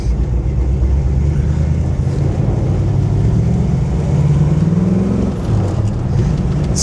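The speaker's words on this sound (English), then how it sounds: "Motor is nice and healthy." A 1961 Chevrolet Corvette convertible with a dual-quad 283 cubic-inch V-8 rumbles steadily nearby, a loud low engine drone with a gently rising tone partway through, no talking.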